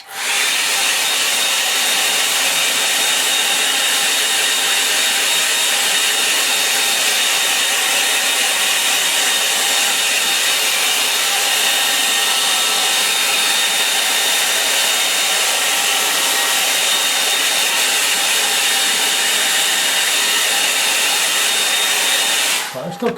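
A handheld hair dryer blows over a line-and-wash watercolour snow scene, a loud, steady, unbroken whooshing roar held close for the whole stretch and cutting off abruptly at the end.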